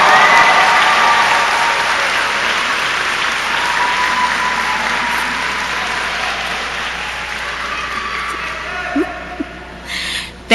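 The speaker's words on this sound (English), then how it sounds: "give your village a roaring round of applause" Dense, sustained applause from a graduation audience honoring family and supporters, a steady broad wash of many hands clapping that fades slightly toward the end, with a few faint voices near the close.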